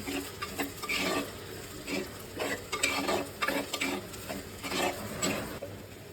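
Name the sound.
ground paste poured into frying onions and curry leaves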